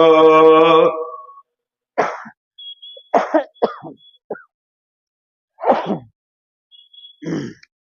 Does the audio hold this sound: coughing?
yes